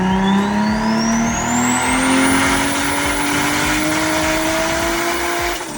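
A car engine with a Pulsar PSR3582 Gen2 turbo carrying a T51R mod, heard close and loud as it revs high and holds. A steady whining pitch climbs over a dense, continuous roar, with no talk.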